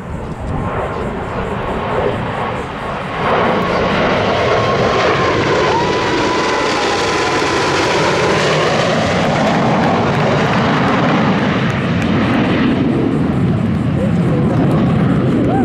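Blue Angels jets make a right echelon parade pass at an air show at NAS Pensacola, a loud continuous roar that swells and sweeps past, with the announcer's voice faintly beneath.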